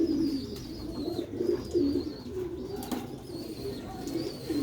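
Pigeons cooing nearby in soft, repeated low throaty phrases, a few birds overlapping at a moderate volume with faint chirps in the background.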